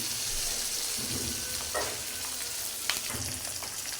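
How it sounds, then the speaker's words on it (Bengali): An egg fries in a pan with turmeric and salt, a soft continuous sizzle heard close up, with a few faint spatula scrapes and small pops. "এখন ভালো করে ডিমটা ভাজে নিই"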